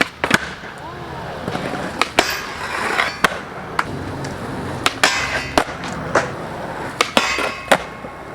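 A skateboard with an 8.25 Generator blank deck and Indy standard trucks rolls on flat ground, with repeated sharp pops, clacks and landings over a rolling rumble, close and fairly loud.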